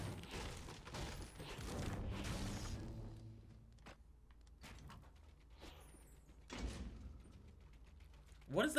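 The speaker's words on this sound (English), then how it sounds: "No, the door opened below me." A door opens somewhere below the player in a multiplayer shooter: a faint mechanical slide and creak beneath ongoing talk, with a couple of sharp knocks and a louder burst at the end.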